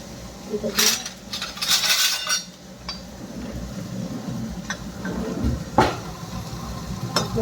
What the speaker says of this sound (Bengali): ভাতটা একটু ঘুটে দিচ্ছি, আমি ঘুটে দিলাম